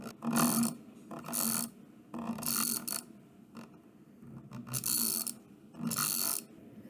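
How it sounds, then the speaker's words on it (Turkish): Drag clicking on a Bloody T60 gaming mouse: about six bursts of rapid, close clicks, each a second or so long, split by brief pauses, with no talk. "Bakın drag klik sesini de hemen dinleteyim size."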